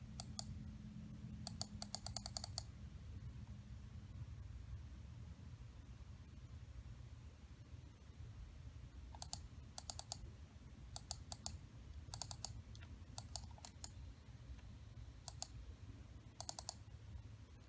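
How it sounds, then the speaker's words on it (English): Sparse clusters of quick computer mouse clicks in short bursts over a low steady hum, faint and close. "Then you want to click on resize."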